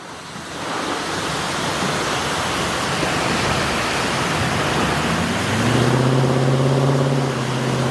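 Strong thunderstorm winds in New Jersey roar in a loud, constant broadband rush, with a vehicle engine tone rising near the end, and no voices are heard.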